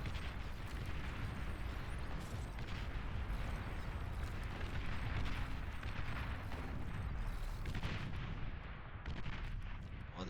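Anti-air units firing in the strategy game Beyond All Reason: a dense, continuous roar of rapid gunfire and booming artillery-like blasts, loud and unbroken, easing slightly at the end.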